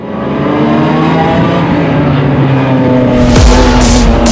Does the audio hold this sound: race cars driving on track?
yes